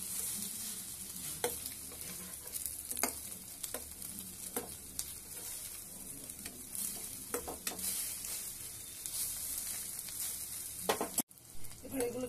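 Egg-dipped toast slices, flipped over and frying on their second side in a pan, give a steady close sizzle with occasional spatula scrapes and taps, heard alone without talk.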